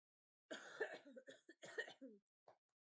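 A run of harsh, close coughs in quick bursts, followed by a pause and one short final cough.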